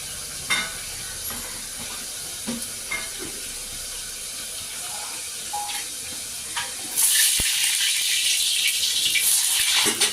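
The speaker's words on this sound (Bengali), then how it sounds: "কড়াই গরম হয়ে গেছে, এখন আমি এর মধ্যে তেল দিয়ে দেব।" Oil in a hot wok, a low steady sizzle that suddenly grows into a loud, bright, continuous hiss partway through, heard alone without talk.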